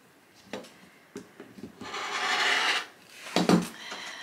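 A 60 mm rotary cutter rolls through layered quilting fabric in one smooth, rasping stroke lasting about a second, surrounded by light taps and handling knocks.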